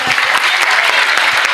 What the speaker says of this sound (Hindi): बहुत बढ़िया, अपने लिए एक बार जोरदार तालियां।